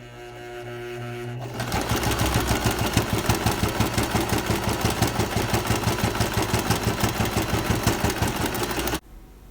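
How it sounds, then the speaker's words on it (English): Sewing machine running a zigzag stitch along the raw fabric ends of a martingale dog collar, a fast rhythmic mechanical chatter that starts abruptly, holds a steady beat close up for about seven seconds, then stops. "I'm going to sew the raw ends of the fabric in towards the inside of the collar"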